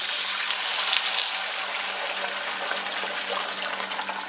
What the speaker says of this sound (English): Now add carrots and water.